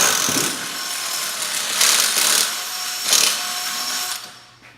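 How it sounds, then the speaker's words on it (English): A power drill opens a pilot hole out to take 5/16 hardware while building a Trans Am roller in a garage, giving a steady close whine that swells in two or three bursts before tapering off. "After the pilot hole is drilled, we just need to go ahead and finish it up to fit our 5/16 hardware."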